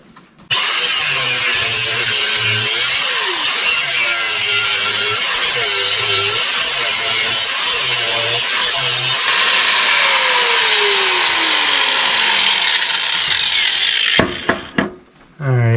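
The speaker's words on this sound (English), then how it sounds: "I went ahead and did more relief cuts" Hand-sawing relief cuts into a kukri knife blade on a cold day produces loud, steady rasping strokes in a regular back-and-forth rhythm that continues close up for most of the stretch, with mechanical clatter at the end.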